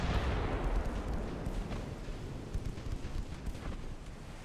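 Naval 5-inch guns fire in the warship game Ultimate Admiral Dreadnoughts, making a continuous heavy rumble of booming shots that blur into one another, deep and loud throughout.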